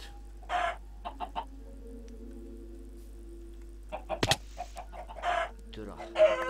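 Minecraft chicken clucking in short scattered bursts between quiet gaps, several clucks across the span, with a brief sharp game sound midway and someone speaking briefly.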